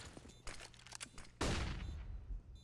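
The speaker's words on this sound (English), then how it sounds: "he will be dropped by Kraken with a close range headshot with that Glock" Glock pistol shots in a close-range CS:GO firefight, a burst of sharp cracks followed by one louder, heavier report that rings out and decays, heard without talk.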